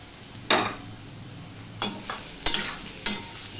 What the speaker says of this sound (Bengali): এটা আমি একটুখানি ভালো করে ভেজে নেব